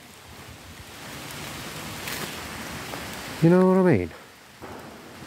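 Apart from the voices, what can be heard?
rain falling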